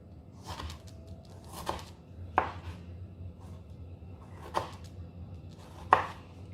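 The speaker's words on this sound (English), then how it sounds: "what you got to do is you got to slice the ginger, yeah, julienne it" Knife julienning fresh ginger into very fine strips on a cutting board: four or five sharp, separate chops spaced irregularly over a quiet kitchen background, with no talk.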